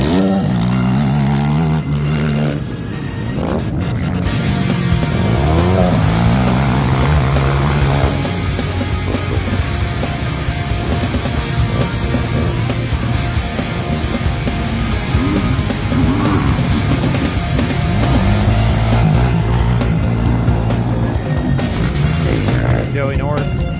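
ATVs racing a Pro-Am motocross lap in Moto 1 at the Ironman MX track, engines droning and revving continuously up close, with people talking over the noise.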